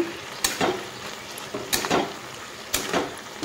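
Bottle gourd cooking with cumin and coriander powder sizzles softly as a utensil scrapes through it in three separate stirring strokes, close by, with no talking.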